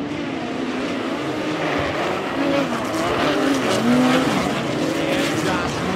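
Midget race cars racing at Valley Speedway in a POWRi National and West Midget League event, a dense steady engine roar with rising whines as cars pass, under an announcer's voice.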